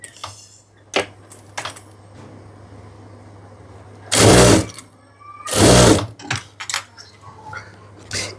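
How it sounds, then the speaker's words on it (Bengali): A sewing machine top-stitches a pajama pocket in two loud bursts of about a second each, with quiet handling clicks and fabric rustles around them. "আমি চাপ সেলাইটি এখানে দিয়ে দিচ্ছি"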